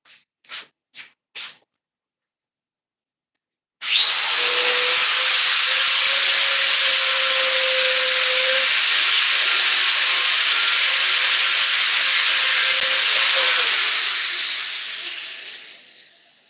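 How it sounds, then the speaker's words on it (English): An angle grinder takes a small feather off a hand-forged blade: after a few short taps, a loud continuous high grinding hiss runs for about ten seconds, then fades as the wheel spins down. "So I'm going to go grind that off."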